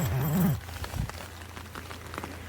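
Soft, steady rain patters on a surface at night, a faint continuous hiss with scattered drops, following a brief low hum at the start.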